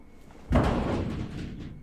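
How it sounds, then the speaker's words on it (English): A door being broken down in a video game: one heavy, close slam that cuts in abruptly, followed by a rattling, decaying crash. "I have to break down the door."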